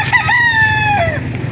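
A rooster crows once at close range at a livestock auction market in Lipa, a loud drawn-out call that rises then tails off, over a low murmur of background crowd noise.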